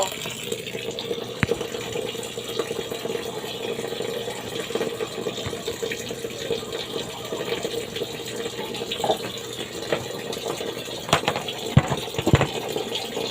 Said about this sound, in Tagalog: For today's video ay maglalaba na ako ng mga labahin.